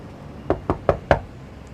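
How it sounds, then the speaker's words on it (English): Four sharp knocks on a shabby basement door, evenly spaced about a fifth of a second apart, close and clear against a quiet background. "he furtively climbed down the stairs to the basement and knocked on the shabby door."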